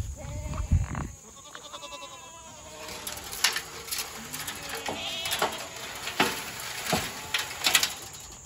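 Several goats bleat repeatedly at close range, overlapping cries with shuffling and movement noises around them.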